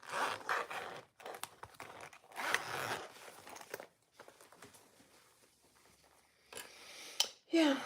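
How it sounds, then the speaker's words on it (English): A clothing zipper is pulled open in short scraping bursts during a sewing session, with rustling fabric handling and a voice talking intermittently nearby. "I'm going to open my zipper too"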